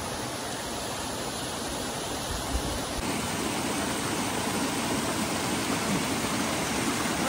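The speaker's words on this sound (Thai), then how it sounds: "น้ำตกเล็กๆ waterfall ของเขา" A small waterfall at a walking spot, a steady broadband rush of falling water, close and continuous with no voices.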